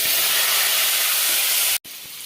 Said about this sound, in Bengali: কাটা ধোয়া আছে, আলুটা দিয়ে দেবো।